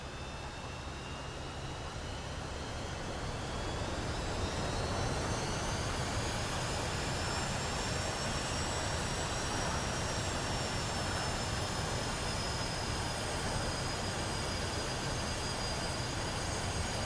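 A Su-25 Frogfoot ground-attack jet taxis in a flight-sim video game, with a steady, loud engine roar and rising whine tones that hold for the whole stretch, with no talking.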